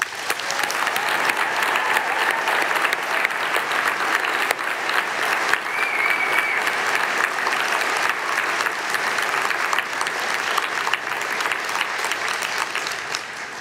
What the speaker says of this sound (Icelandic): Við skulum gefa þessum myndarlega hópi gott klapp.